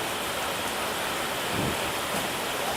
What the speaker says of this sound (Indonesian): Di bawah guyuran hujan yang cukup deras begini